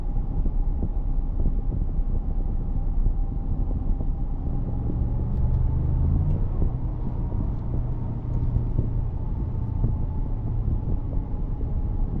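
A 2023 Ford F-150 Tremor pickup truck engine rumbles steadily in low tones throughout while driving, with a faint hum above and a slight rise in deeper throb midway, no talking.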